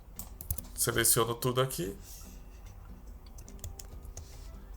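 Computer keyboard keys and shortcuts pressed while filling in a simple financial-control spreadsheet with charts; a voice talks over the first seconds, then scattered light taps and clicks follow close by.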